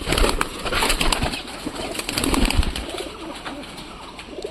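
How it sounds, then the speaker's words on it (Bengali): Pigeons leaving a coop one after another, with continuous close cooing and bursts of wing flapping at a busy, steady level. "সব কবুতর বেরোচ্ছে।"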